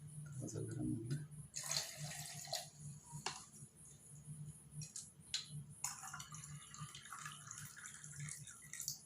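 Warm water being poured into a vessel for a nasal rinse, a faint trickling splash with intermittent pours and small clinks, under someone speaking quietly in Hindi.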